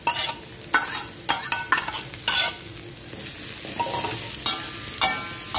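Shallots, ginger and bird's-eye chillies sauté in a pan with a continuous crackling sizzle and irregular sharp stirring scrapes, close by and moderately loud, without any speech.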